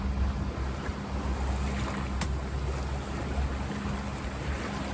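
Sailboat motoring and sailing at about 3.4 knots off Newport, Rhode Island, near Fort Adams, with steady wind rush over the microphone, water washing along the hull and a low engine hum throughout.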